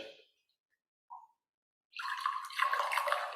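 Alkaline Kangen water at pH 11.5 pours from the tap into a container, a steady splashing stream starting partway through and running to the end after a brief drip.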